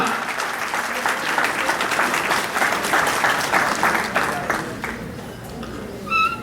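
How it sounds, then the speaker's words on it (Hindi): Loud, sustained applause from a large crowd welcoming a performer to the stage at a Mehdi Hassan tribute event, dense clapping that continues steadily and fades slightly toward the end. "मैं भरपूर तालियों में स्टेज पर बुला रहा हूँ जनाब इशरत अल्लाह दत्ता।"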